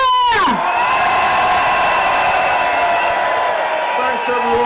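Crowd at a rally cheering and sounding horns on cue, a loud sustained wall of blown horn tones and raised voices that starts at once and holds steady to the end.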